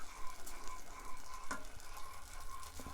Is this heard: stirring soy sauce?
yes